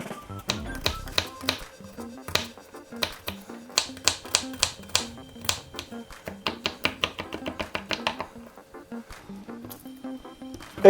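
Garlic being finely minced with a knife on a cutting board, a fast run of crisp, close chopping taps in quick bursts, mostly alone with short pauses between runs.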